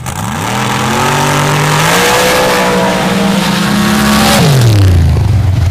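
Ford and Chevy drag racing cars launch off the line together, engines snarling loud and close, pitch climbing as they pull away, then dropping as the roar fades into a long whine.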